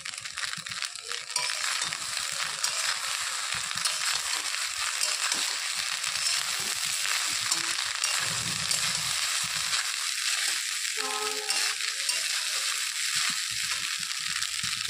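Soaked cashews and raisins drop into a hot pan of leftover rice dish, giving a steady close-up sizzle and crackle with a few rattling clinks of nuts landing near the end.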